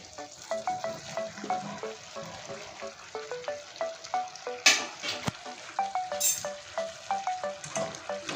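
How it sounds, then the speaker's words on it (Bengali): Potato and brinjal fry together in a pan for a vegetarian dish, a low sizzle under steady rhythmic stirring taps and scrapes, with a couple of sharper clatters midway and near the end. "এবার আলু আর বেগুন একসঙ্গে কষিয়ে দেব"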